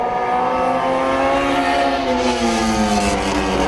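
Dirt track race cars roar through the turns at County Line Raceway during heat racing, a loud continuous engine drone with rising and falling pitch as several cars power off the corner.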